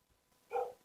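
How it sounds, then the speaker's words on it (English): A single short dog bark, faint and somewhat distant, standing alone against a quiet background. "I'd like to apologize for my barking dog."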